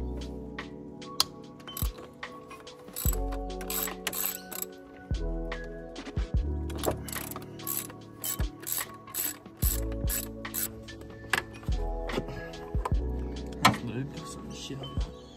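Ratchet wrench undoing the top mount bolts on a Subaru STI in a garage, rapid clicking pawl bursts in repeated runs with pauses between, close and fairly crisp.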